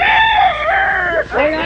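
A rooster crows loudly and close in a long, wavering call, at a cockfight betting scene.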